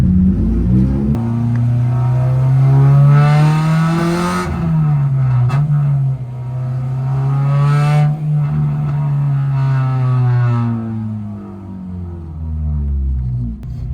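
A Honda Civic K-series engine with a new throttle body revs up loudly and close, its pitch rising, dipping, and climbing again in long sustained pulls.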